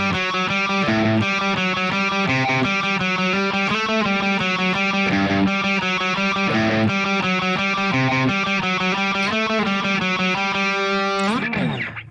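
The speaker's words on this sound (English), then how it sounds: "So this will be a guitar-only riff" Distorted electric guitar in standard tuning playing the Scotty Doesn't Know riff, each note picked individually and twice in a fast, even repeating pattern, loud and steady throughout with no talking.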